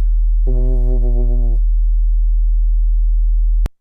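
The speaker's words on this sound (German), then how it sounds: "tiefer, brummender, so ein wabernder Ton" A deep, humming test tone wobbles steadily and loud, with a brief warbling harmonic layer near the start, then cuts off sharply.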